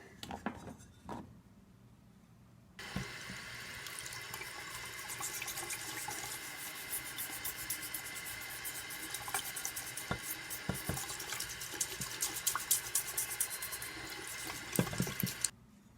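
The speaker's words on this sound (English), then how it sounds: "we're going to go ahead and rinse this off and see how it did" Water running from a tap rinses Loctite Naval Jelly rust dissolver off a metal piece, a steady close splashing stream with small clatters and knocks on top.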